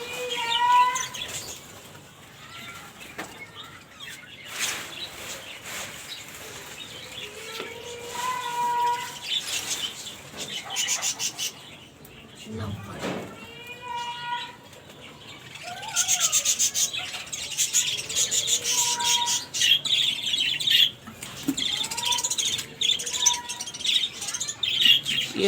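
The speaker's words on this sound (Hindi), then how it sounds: "ये लव बर्ड हैं, अल्बिनो हैं, लुटिनो हैं" Albino and lutino lovebirds chirping in a garden aviary, with a scattering of high tweets, short calls and rustling throughout, some nearby and some farther off, with no talking.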